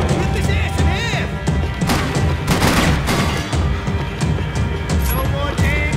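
Gunfire in the video game Max Payne 3, a dense, loud, continuous barrage of shots and impacts with voices mixed underneath.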